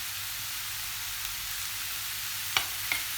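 Butter and mushrooms fry in a pan, giving a dense, even, hiss-like sizzle that runs the whole time at moderate loudness, with a couple of small clicks near the end and no voices.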